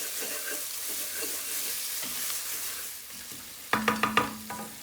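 Garlic and ginger fry in a pan for brinjal bhajee, a steady close sizzle running throughout, with a burst of sharp stirring scrapes and clatters near the end.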